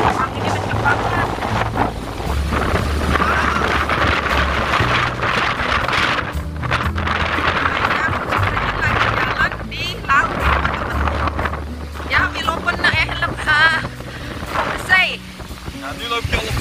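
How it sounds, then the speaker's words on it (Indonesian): Strong wind buffets the microphone in open flat land on the former island of Schokland, a roaring steady gusting with people talking underneath. "Nah, ini anginnya kenceng banget."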